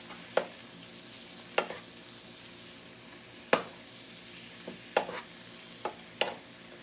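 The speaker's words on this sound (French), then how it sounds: "نستمر في خلط الثوم مع الجمبري والملح" Garlic, shrimp and salt being stirred in a pan, soft background sizzle punctuated by a handful of sharp spoon scrapes and knocks at irregular intervals, quiet and without speech.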